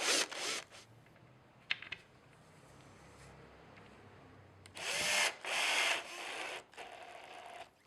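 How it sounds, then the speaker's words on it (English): A power drill bores pilot holes in the back of a furniture panel for button-fix connecting fittings, in a few short, loud whirring bursts separated by quieter gaps. "Use the indents on the back of the panel as guides for drilling pilot holes for the buttons."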